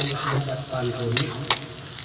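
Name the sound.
frying ginger garlic paste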